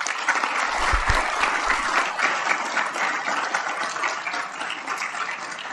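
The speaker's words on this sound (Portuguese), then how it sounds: "muito aplaudida agora por seus colegas no plenário do Supremo" Sustained applause from colleagues in the Brazilian Supreme Court plenary after Rosa Weber's speech, many hands clapping steadily and filling the room, lasting throughout.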